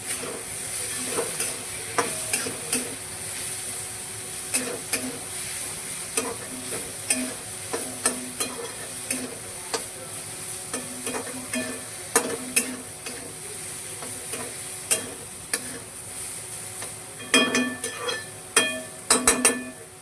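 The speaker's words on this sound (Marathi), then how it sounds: "मीठ टाकून घेतलंय आणि याला आता छान मस्त मिक्स करून घेणार आहे." Spatula stirring and scraping salted bitter gourd in a pan over a soft sizzle, with irregular metallic clinks throughout.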